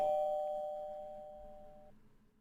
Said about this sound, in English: He psychs Monkey out so bad with that doorbell